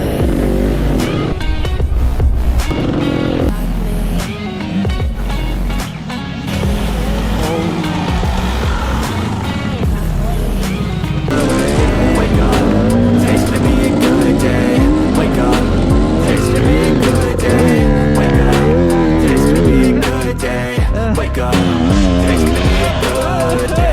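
A dirt bike engine revs hard through a motocross freeride, loud and continuous with shifting pitch and rider voices mixed in.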